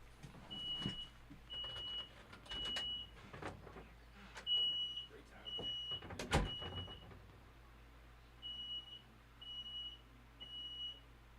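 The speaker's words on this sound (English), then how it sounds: "Oh, that's a fire alarm." Smoke alarm beeping indoors in a house, repeated short high-pitched chirps in an irregular series, mixed with clunks and rustling handling noises nearby.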